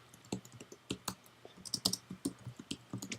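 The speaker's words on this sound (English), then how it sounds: "actually just typing in everything correctly" Someone types on a computer keyboard, producing irregular bursts of sharp, close key clicks and taps in quick runs, with no talking.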